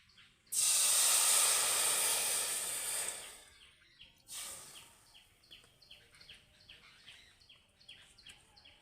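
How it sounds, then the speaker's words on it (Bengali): A loud burst of hissing steam erupts as water hits a preheated wok, roaring for about three seconds, fades, then flares briefly again before settling to a soft sizzle. "প্রথমে কিন্তু আমি কড়াইতে দিয়ে দেব জল আর কড়াটা কিন্তু আমি আগে ভালো করে গরম করে নিয়েছি"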